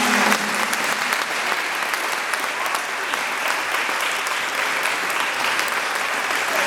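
Sustained applause from a sizable audience at a polyphonic choir concert, dense and even throughout.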